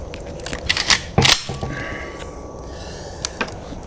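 A shell slides into a Franchi SPAS-12 shotgun, heard as a few close, sharp metallic clicks and a brief clack in quiet surroundings, with a faint ringing tail afterward.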